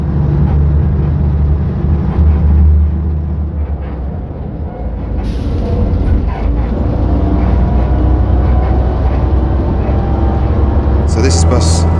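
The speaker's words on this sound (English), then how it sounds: "It's quite noisy, as you can probably hear, but again, it's an older bus" An older classic bus at an Isle of Wight bus museum event, heard from inside during a ride: loud, steady engine rumble and body rattle throughout, with a brief hiss midway and faint squeaks near the end.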